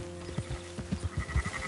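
Sheep in a video game bleat in a quick run of short, nasal cries that overlap and sound close. Soft hoof-like clops sit underneath them.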